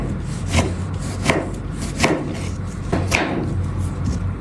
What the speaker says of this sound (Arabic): نقطع الطماطم